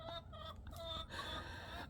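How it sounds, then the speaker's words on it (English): Rooster clucking close by, a run of short throaty calls repeating over a steady low background hum. "I don't know about this rooster."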